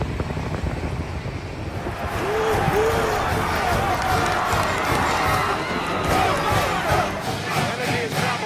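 A large crowd at a Nebraska drag racing event roars and cheers continuously, a loud, dense wall of voices and yells that swells and stays up throughout.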